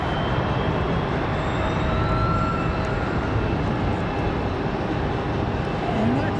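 An American Airlines Airbus A321 jet arriving from Charlotte at Raleigh-Durham International Airport, a loud continuous engine roar and rumble lasting throughout, steady and broad, heard from the airport.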